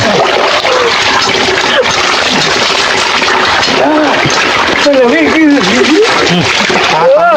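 Water is poured over someone during a bath, with continuous loud splashing and sloshing throughout and several people talking over it.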